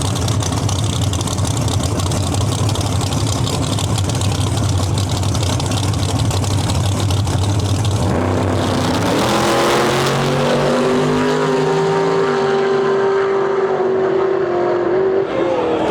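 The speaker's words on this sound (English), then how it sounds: "Craig Wilson, Bad News Camaro in our lane, going up against another Camaro, far side of the track." Two Camaro drag race cars launch side by side at a race event, loud engines roaring steadily before the pitch rises and sweeps upward as they accelerate away.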